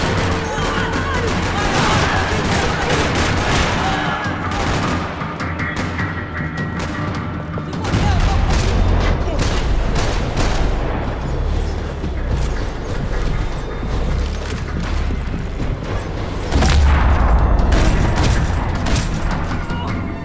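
Heavy gunfire rattles across a parking lot, with dense overlapping volleys, rapid automatic bursts and booming shots filling the whole stretch, loud and close with no pause.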